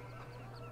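Chickens on a Pacific Northwest farm in Farming Simulator 17 give a brief, close cluck over a steady low hum, with no talking.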